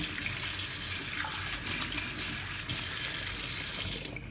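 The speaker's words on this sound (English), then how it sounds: "Just wash the hands real quick." Hands washed under a running kitchen tap, a loud, steady close-up gush of water that runs unbroken for several seconds before easing off at the end, with no talking.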